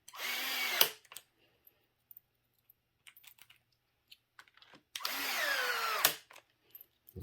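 A power drill drives screws into a repaired rear bumper on an MCD XR5 Ghost Rider RC car, clutch set low: two loud, close whirring bursts about a second each, separated by quiet handling clicks and small taps.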